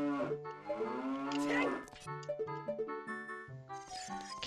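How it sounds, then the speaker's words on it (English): Cows mooing in the Zelda: Ocarina of Time video game, several long, loud moos in a row with game music and jingles layered between them, no talking. "Cows. Moo."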